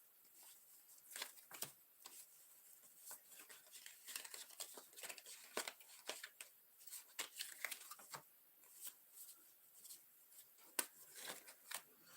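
Tarot cards being shuffled close up, a run of quick, crisp riffling and slapping bursts in an irregular rhythm, fairly quiet and with no talking.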